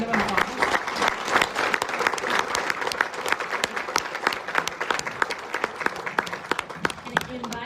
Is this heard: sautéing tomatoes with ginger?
no